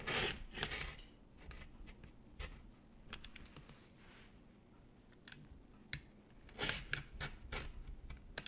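Scissors snipping through cardboard to cut out a template for a casserole caddie, a string of short crisp cuts and rustling close by, quiet, with louder snips near the start and end and no talking.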